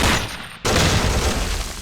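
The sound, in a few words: Javelin missile explosions in the video game Close Combat Modern Tactics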